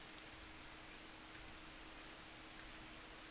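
Steady rain falls continuously in the jungle survival game Green Hell, a dense, even hiss of downpour with no distinct drops standing out, soft and uniform throughout.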